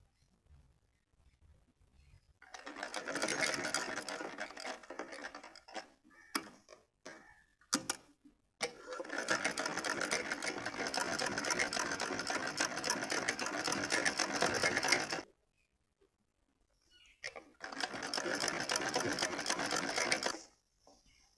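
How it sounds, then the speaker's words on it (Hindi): A sewing machine runs in three long, steady bursts with short pauses between them, stitching the bottom skirt panels together on a full-sleeve winter dress for a Laddu Gopal idol. The whirring is close and loud, with no talking. "पूरा मिलाकर ये देखो इस पर सिलाई हो रही है।"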